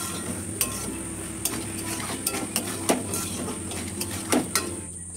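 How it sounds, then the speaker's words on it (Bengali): Boiled potatoes and peas being stirred and scraped in a cooking pot, a series of sharp metallic clinks and scrapes at an uneven pace over a steady background hum, with no talking. "এখানে আমি আলু মটর সেদ্ধটা দিয়ে দিই। ভালো করে এটাকে আমি কষিয়ে নেব।"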